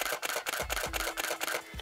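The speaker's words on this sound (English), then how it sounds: "Now, when I take a picture here, let me just take a picture. It sounds like this." A Canon 6D DSLR shutter fires about seven times in quick, even succession, giving crisp mechanical clicks that sound close and fairly quiet.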